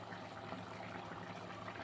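A pot of mutton curry bubbles on the stove at a steady simmer, a soft continuous gurgling and hiss heard close up and quietly, with no voices.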